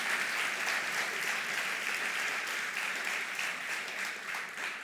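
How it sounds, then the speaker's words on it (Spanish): A church congregation applauds in steady, dense clapping that fills the whole stretch at an even, sustained level with no voices standing out. "Quiero que te des un aplauso,"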